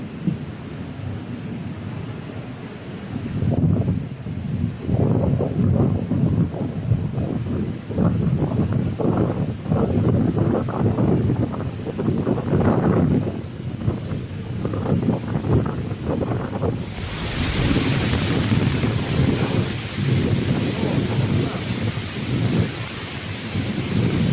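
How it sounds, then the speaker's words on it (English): The waterfall inside Smoo Cave at Durness roars as a constant, heavy rush of water echoing in the cavern, with gusts of wind buffeting the microphone and the pounding growing louder toward the end. "And now we got to see the inside waterfall. It's a waterfall in the cave."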